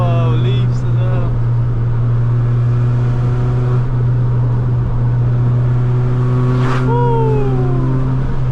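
A Honda car's VTEC engine pulls hard in fifth gear, loud and continuous inside the cabin, its droning tone holding steady with rising whines and shifts in pitch throughout.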